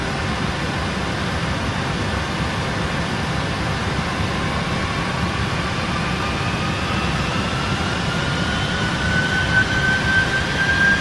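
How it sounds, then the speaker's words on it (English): Boeing 747 jet engines in the PMDG flight simulator roar steadily as they spool up for takeoff, a dense, continuous rumble with a faint rising whine that grows slightly louder toward the end, and no voices. "Cleared for takeoff. Applying thrust."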